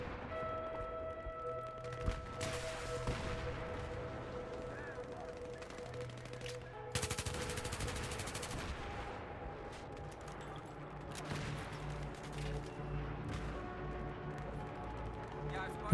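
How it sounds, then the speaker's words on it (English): Heavy automatic gunfire and explosions in a Battlefield 3 desert multiplayer battle at Bandar Desert, dense bursts rolling continuously under steady game noise, with someone talking over parts of it. "we're under such heavy fire it's very difficult to break off and find the time to actually go and do that"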